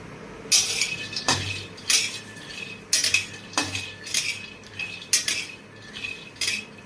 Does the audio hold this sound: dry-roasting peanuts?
yes